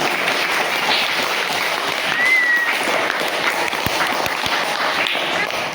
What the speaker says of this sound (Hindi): 2 तालियां।